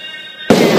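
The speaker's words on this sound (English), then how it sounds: "Firecrackers going on" Firecrackers burst suddenly and loudly after a quiet stretch, a dense crackling blast filling the moment on the Via Dolorosa street in Jerusalem.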